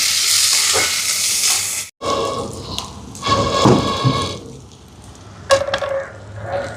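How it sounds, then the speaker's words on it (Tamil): Small shallots sauté in a pan with dried red chilies and curry leaves, a loud close sizzle that cuts out briefly, then returns with stirring scrapes and sputters. "பாருங்க வெங்காயம் வதங்குது"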